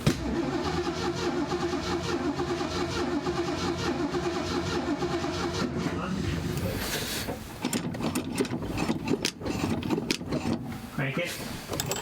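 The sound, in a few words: Ford Mustang Mach 1 engine cranking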